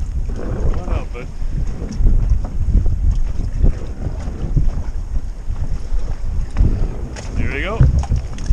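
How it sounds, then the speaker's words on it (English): Gusty wind buffeting outdoors while fishing, rumbling and uneven, with someone talking and a seagull's cry faintly at the end. "When it's windy like this, you just gotta settle down"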